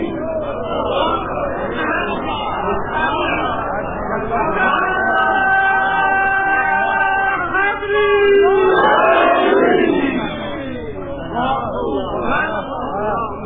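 A large crowd at a religious gathering roars a slogan in unison: loud, massed voices shouting together, rising into a sustained chorus and then breaking into scattered calls and babble.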